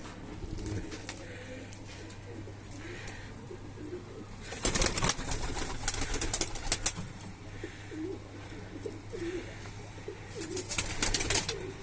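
Pigeons in a crowded coop coo and rustle, with bursts of loud wing flapping partway through and again near the end, close by and without speech.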